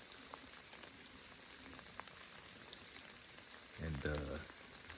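Rain falling steadily in the outdoors during a hunt, a soft, continuous patter throughout, with a brief low voice murmuring near the end.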